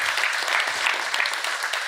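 Conference audience applauding the speakers, a dense, steady wash of clapping from a large crowd that carries on without pause.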